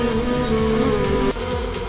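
Wild bees hum around a giant jungle hive in a forest, a steady, fairly loud buzz holding throughout, with a slight dip near the end.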